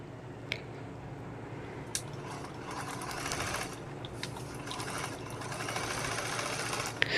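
A sewing machine stitches tucks into a blouse, a steady close mechanical hum with a rapid needle rattle that runs continuously, broken by a few small clicks.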